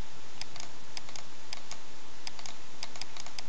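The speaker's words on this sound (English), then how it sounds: "make our brush size smaller by hitting the brackets on our keyboard" Computer keyboard keys tapped in short, irregular bursts of crisp clicks at close range, like quick typing and shortcut presses, over a steady faint hiss.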